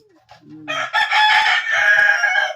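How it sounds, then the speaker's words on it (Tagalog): A single rooster crows loudly and close, a long drawn-out call following a few soft clucks. "Abaw, katilaok pa."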